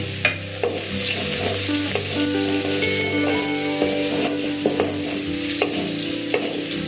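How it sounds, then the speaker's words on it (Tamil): Onions sautéing in oil in a pan for a brinjal curry, a loud close sizzle with frequent scraping and stirring clatter from a spoon, plus a faint ringing tone in the background. "மீதி வெங்காயத்தை இதை போட்டுட்டு நல்லா வதக்கி விடணும்"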